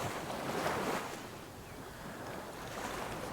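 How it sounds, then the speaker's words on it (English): Ocean waves on a beach, a soft, steady wash of surf that swells briefly and then settles into a low, continuous hiss with light wind noise, heard alone and faint. "Just listen to the rhythmic sounds of the waves rising and falling"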